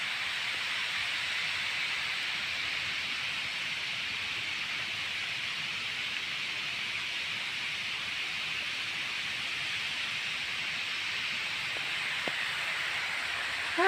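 Irrigation water sprays steadily across a watermelon field, a constant soft hiss that stays even and unbroken from start to finish.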